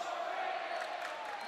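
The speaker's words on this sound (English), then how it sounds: "See the crowd here chanting overrated." Home crowd at a high school boys' basketball game, Hoggard at New Hanover, chanting in unison; a steady, dense roar of many voices from the stands fills the moment without pause.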